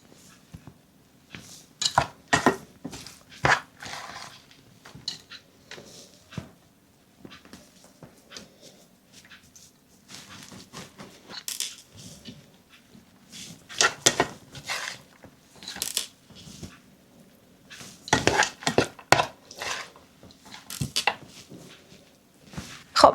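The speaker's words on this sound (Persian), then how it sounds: "به همین شکل تمام برنجی که مخلوط کردیم و داخل قابلمه میریزیم." Mixed rice for saffron spinach pilaf is spooned into a cooking pot in a home kitchen, with irregular soft scrapes, taps and clinks of a utensil against the pot, fairly quiet, with no speech.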